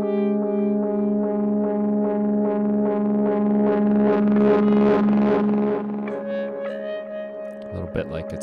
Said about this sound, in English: guitar feedback there.